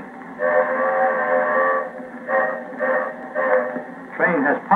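A Lionel model train whistle sounds the flagman protect-rear signal: four close whistle toots, one long blast followed by three shorter ones, with a brief rough burst at the end.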